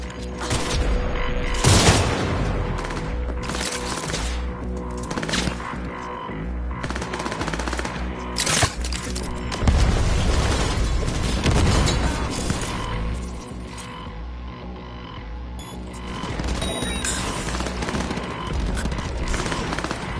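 Sustained gunfire in the video game Cyberpunk 2077, loud automatic bursts and heavy shots layered with explosions and mechanical clatter, continuous and dense over a rumbling soundtrack.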